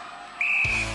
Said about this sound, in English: you will go on my first whistle